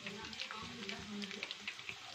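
Cashew chicken pakoda frying in hot oil, a steady crackling sizzle with small bursting pops spread evenly throughout, close and moderately loud, no voices.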